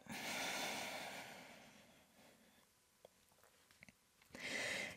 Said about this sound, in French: Prenez des grandes respirations.